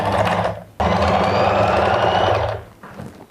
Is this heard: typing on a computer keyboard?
no